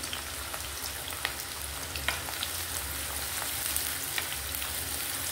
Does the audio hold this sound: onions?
yes